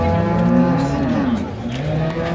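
A dairy cow lows at a cattle market in Ambari, Dinajpur: one long, loud, close moo with a wavering pitch fills most of the moment, followed by a softer trailing call amid market noise.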